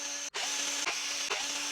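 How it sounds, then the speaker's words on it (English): A power drill bores holes in a plastic inner fender from a Scorched Parts mud guard kit for an Arrma Senton 3S RC truck, a sustained whine broken by three brief stops. "So I'll go through these with a drill as well"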